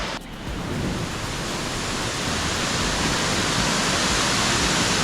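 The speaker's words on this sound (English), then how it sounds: "And I can already hear the waterfall." Sidang Gila waterfall in Lombok produces a broad, constant roar of falling water that swells quickly in the first moment and stays loud and unbroken throughout.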